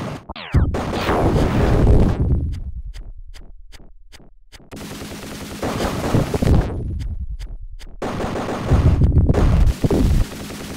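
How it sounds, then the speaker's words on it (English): Machine gun fire in the Genesis game BattleTech comes in loud, rapid bursts of evenly spaced shots, several volleys with brief gaps between them, over a steady synthesized background. "machine gun."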